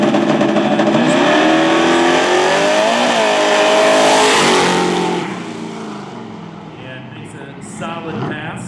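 A twin-turbo drag racing car roars down the strip on a hard-tire pass at Lake Cumberland Dragway, loud and rising in pitch before fading into the distance, with an announcer talking over it.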